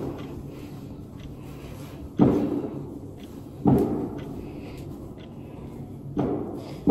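Bonfire Night fireworks on 5 November thud in the distance, three or four muffled booms spaced a second or two apart over a low background hum.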